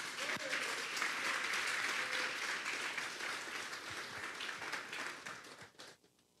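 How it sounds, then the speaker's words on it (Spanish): Congregation at a Bible study service gives a strong round of applause to the Lord, a dense wash of clapping that holds steady then tapers off over several seconds. "Démosle un fuerte aplauso pues al Señor"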